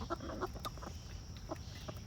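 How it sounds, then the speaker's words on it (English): Backyard chickens cluck softly and intermittently while pecking at layer feed mixed with sunflower seed and red pepper flakes, scattered short calls over a steady low background hum. "And they're chickens, they're funny."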